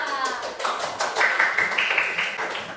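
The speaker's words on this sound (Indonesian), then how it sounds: "Kasih tepuk tangan untuk kelompok 3." A classroom group of students claps in a brief round of applause, a dense patter of hands that holds steady for a few seconds.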